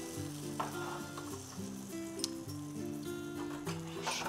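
Fish sizzles softly in a pan while being turned over, with a low steady frying hiss and a couple of small clinks from the utensil.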